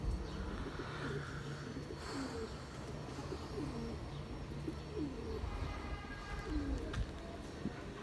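Soft, low cooing calls from pigeons repeat over a steady outdoor background, with faint chirps mixed in.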